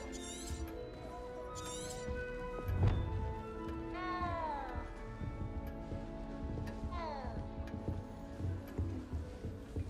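A cat in the video game Hogwarts Legacy gives several rising, wavering meows over a busy bed of game ambience, with a voice speaking now and then.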